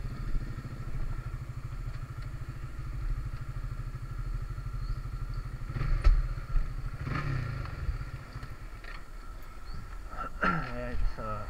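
A motorcycle idling nearby on a roadside pathway, a low rapid chugging pulse that fades after a few seconds, followed by clatter and bumps while voices talk over it.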